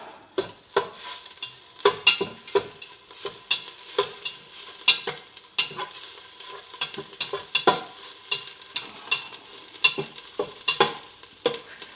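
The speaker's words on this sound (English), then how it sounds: "I gotta stir the paste up a bit" Thai green curry paste sizzles in a hot pan while being stirred, with repeated scraping strokes and clinks forming an uneven rhythm over a soft frying hiss, close and fairly loud.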